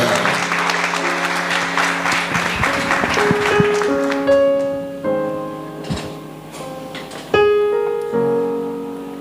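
In a Haitian church, the congregation claps loudly for a few seconds, then the applause gives way to sustained keyboard chords and single notes, with a few claps still scattered through.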